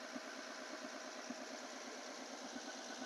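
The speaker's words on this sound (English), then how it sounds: "It's gonna be a little loud because diesels are pretty loud." A 2020 Chevrolet Silverado 2500HD with a 6.2 liter turbocharged V8 diesel runs at idle, a faint, steady engine hum with a rapid, even knocking pulse.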